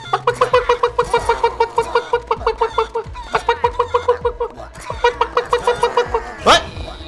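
Rapid, regular clucking from a chicken in the game Guacamelee runs in three bursts, loud and near, over a low game drone, ending with a sharp rising whoosh.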